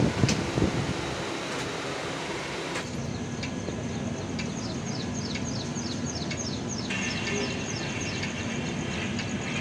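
Steady broadband rumble and rattle inside a moving Marusagar SF Express coach on the Konkan Railway, with a shift in tone partway through and light chirping squeaks overhead, continuous and close.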